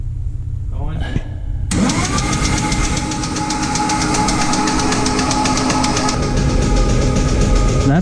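Supercharged cammed Ford Coyote engine cranking over, a loud steady starter whir with rhythmic pulsing that runs continuously for several seconds after a brief lead-in, without catching.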